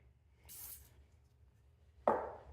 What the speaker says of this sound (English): I'm gonna spray some silicone on here.